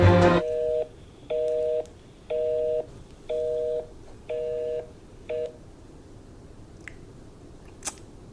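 A touch-tone telephone keypad dials six evenly spaced beeping tones, clear and close, followed by faint quiet with a couple of small clicks.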